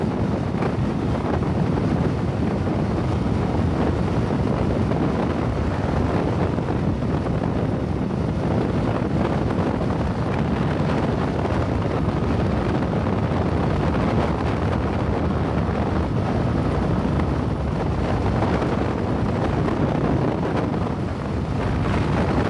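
Steady, loud wind rush buffets the microphone while a motorcycle travels on a cold ride over Vasco Road, a broadband roar that runs unbroken for the whole stretch with no talking.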